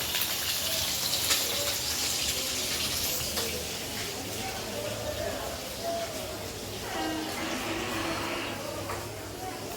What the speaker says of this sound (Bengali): কড়াইতে তেল দিয়েছি এখন মাছগুলো ভেজে নিব মাছগুলো ছেড়ে দিয়েছি এগুলো ভালো করে ভেজে নেব